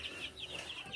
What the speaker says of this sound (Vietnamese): Đây là đàn gà bắt lần sau.